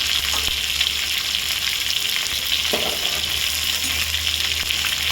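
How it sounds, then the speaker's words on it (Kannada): Brinjal masala fries in oil in a pan, a loud, steady, dense sizzle throughout, with occasional soft stirring scrapes and no voices. "ಸ್ವಲ್ಪ ಚೆನ್ನಾಗಿ ಫ್ರೈ ಮಾಡ್ಕೋಬೇಕು"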